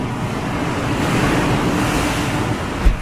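Sea waves surge and break near the Blue Cave sea cave on the Noto Peninsula coast, Ishikawa, a steady roaring wash of surf mixed with wind buffeting the microphone, with a brief thump near the end.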